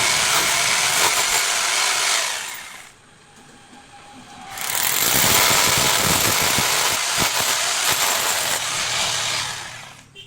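An electric drill bores holes into a wall to mount the outdoor unit bracket of a Voltas split AC, a loud steady whine running in two long bursts with a quieter pause between them.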